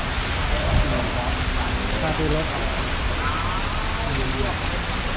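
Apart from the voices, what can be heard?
rain falling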